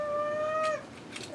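A held cat gives a long, loud screeching yowl that breaks off abruptly, followed by faint rustling, close by with no talk.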